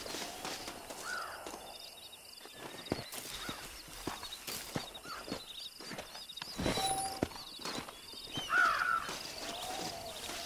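Horse hooves clip-clop unevenly in Red Dead Redemption, with sharp scattered knocks over a quiet outdoor background, crow calls, and a brief whinny near the end, all fairly faint and with no talk.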